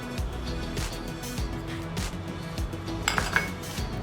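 A spoon scrapes and clinks in a bowl while flour is mixed with salt and oil for pav dough. The soft, steady scraping carries occasional sharper clinks of utensil against the bowl.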